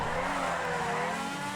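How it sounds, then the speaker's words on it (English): Lampadati Tigon supercharged sports car in GTA Online, its supercharger whine layered over a loud, rich exhaust note that holds a steady, close roar throughout. "We have a supercharger whine on top of what I think is the best sounding exhaust note now"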